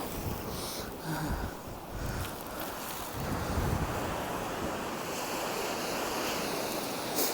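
Strong wind roars and buffets against the microphone near the sea, with a steady rushing noise of surf underneath and no voices.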